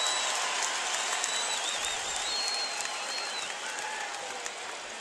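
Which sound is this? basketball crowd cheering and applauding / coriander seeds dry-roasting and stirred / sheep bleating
basketball crowd cheering and applauding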